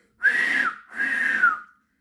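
Someone reading a Thomas the Tank Engine story imitates an angry train whistle with two long, loud whistled blasts, the second slightly drawn out, each with a falling end, heard up close.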